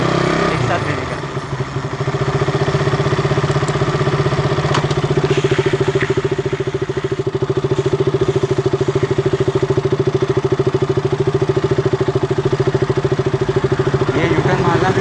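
A motorcycle engine runs steadily and loudly close by as a beginner rider works the clutch and throttle together, a continuous droning hum with a rattly pulse, while someone talks over it.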